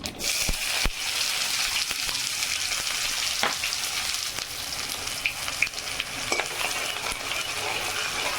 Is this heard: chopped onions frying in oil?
yes